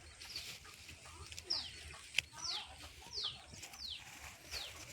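A bird gives a series of short, high, repeated calls at a steady pace, faint and somewhat distant over quiet outdoor background noise.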